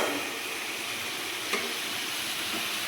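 Chopped coriander leaves frying in a reducing Ritha fish curry, giving a steady close sizzle with faint stirring and one brief clink midway, no talking.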